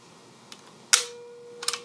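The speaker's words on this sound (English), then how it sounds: "That's all the sound that this camera makes when it fires. Just that small click." A Mamiya C220 twin-lens camera's leaf shutter fires with one small, crisp click in a quiet room, followed by a soft faint tone and a second pair of light mechanical ticks.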